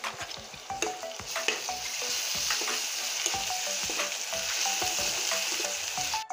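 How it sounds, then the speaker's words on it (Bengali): Garlic and chili paste frying in hot oil with onions already fried red, for a light rohu fish curry with potato and pointed gourd; a steady close sizzle with repeated stirring clinks and scrapes throughout, no talking. "প্রথমে রসুন বাটা দিয়ে দিচ্ছি।"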